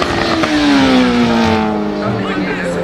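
A toy MotoGP racing motorcycle lets out a loud, close engine rev that rises sharply, then winds down in a long whining sweep, with a voice in the background.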